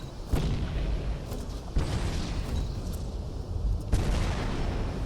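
Grenade blasts in the Shadow Complex video game, three heavy booming explosions spaced a couple of seconds apart, each with a sharp onset that fades into a dense rumbling wash of debris and noise.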